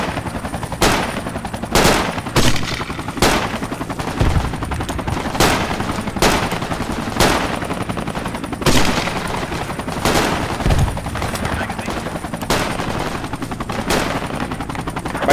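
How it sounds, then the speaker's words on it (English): Repeated bursts of machine gun fire in the Project Reality military shooter, sharp rattling volleys at fairly regular intervals, moderately close, with the rumble of battle between them. "Is that an MG over there?"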